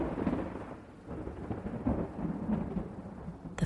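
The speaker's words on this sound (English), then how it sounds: "The thunder continued to growl in the distance, a grumpy old giant wandering through the hills." Deep thunder rumbles on and off in the distance during a winter storm, low and rolling under a steady wash of rain, with a brief sharper crackle near the end.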